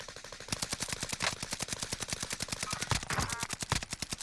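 Rapid automatic gunfire in a multiplayer video game, a long, loud, evenly spaced burst of shots with a few heavier blasts mixed in, and quiet voices in the background.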